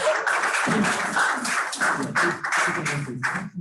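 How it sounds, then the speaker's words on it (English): Hands clapping at an International Youth Day joint club meeting, a steady dense patter of applause filling the room throughout, loud and close. "Clap your hands."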